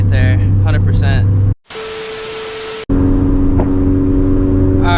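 A turbocharged Toyota FRS making over 350 horsepower pulls hard in second gear, its engine note rising loud and close, cut briefly by a burst of harsh noise, with a voice talking early on.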